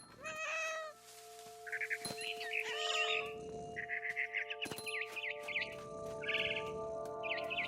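A frightened barn swallow chirps in rapid, agitated bursts in What Remains of Edith Finch, mixed with a few cat meows close by against a steady tonal music bed.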